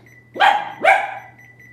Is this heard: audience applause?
no